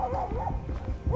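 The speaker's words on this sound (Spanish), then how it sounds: "ahora ladra." Near an abandoned quarry in open country, a dog barks a few times in quick succession, fairly close, over outdoor background noise.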